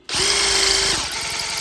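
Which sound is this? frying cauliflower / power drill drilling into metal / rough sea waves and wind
power drill drilling into metal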